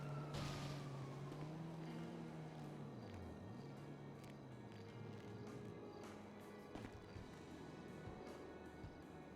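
Wailing sirens rise and fall through traffic noise, with a passing vehicle rumbling nearby; the siren tone sweeps steadily for several seconds.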